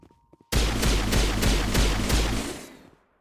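Rapid automatic gunfire from a weapon in the video game Vanguard, a loud sustained burst of evenly spaced shots lasting about two seconds, ending in a brief fading tail.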